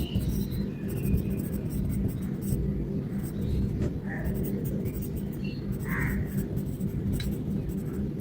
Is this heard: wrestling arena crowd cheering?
no